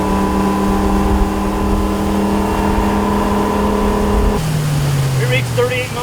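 A used motorboat's engine drones loudly and steadily on the water, then its pitch shifts as the boat accelerates and planes out, with a voice briefly heard near the end.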